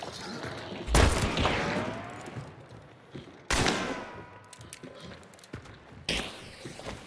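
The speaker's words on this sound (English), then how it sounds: "Covering fire" Gunfire in the video game Hunt: Showdown, with three loud, sharp shots spaced a few seconds apart, each trailing a long ringing echo over quiet background ambience.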